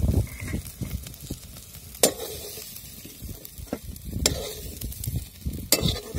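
Onion sizzles steadily in hot oil in a pan while being stirred, with scraping and sharp clinks of a utensil against the pan throughout, loud and close, for a potato chutney.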